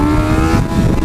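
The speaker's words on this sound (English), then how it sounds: "Let's get a first gear wheelie real quick." A motorcycle with a freshly flashed ECU revs hard in first gear while pulling a wheelie, its loud, close engine note rising through a short burst of throttle.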